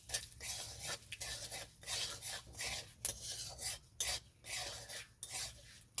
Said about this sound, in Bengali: দিয়ে দেবো পরিমাণ মতো নুন, খুব ভালো করে একবার নেড়ে নেব।